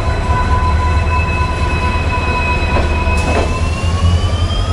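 Another train passes alongside a moving express train near Kharagpur Junction, a loud steady rumble of wheels with high ringing squeals and a brief whoosh, no voices.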